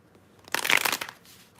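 A deck of playing cards is shuffled once, a short burst of riffling and flicking lasting under a second, fairly close and moderately loud with no talk over it.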